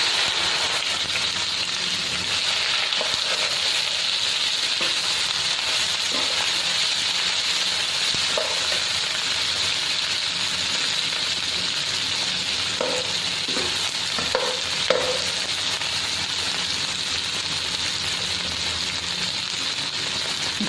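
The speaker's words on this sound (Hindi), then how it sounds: "ऑयल गर्म हो गया, अब हम इसमें भिंडी डाल रहे हैं।" Okra frying in hot oil in a pan, a continuous close sizzle with a hissing, rain-like texture, broken now and then by faint stirring clinks and small pops, with no voices.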